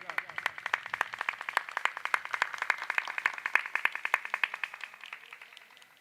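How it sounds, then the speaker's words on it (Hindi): Audience at a Ramkatha gathering clapping in unison, a loud, regular rhythm of sharp claps that speeds up slightly and then fades near the end. "जोरदार जोरदार जोरदार ताली बजाते रहिएगा"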